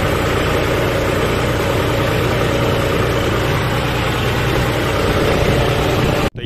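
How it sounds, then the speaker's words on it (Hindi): A John Deere 5310 tractor engine runs close by in a farm field, a loud, steady low diesel drone with constant vibration that cuts off abruptly near the end. "आ रहा है ट्रैक्टर"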